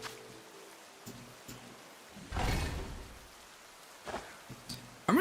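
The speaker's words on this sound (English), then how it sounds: "It's raining, oh no." Rain falling in a Pokémon video game, a soft broadband wash that swells to a louder burst midway, with brief game sound effects clicking in and out around it.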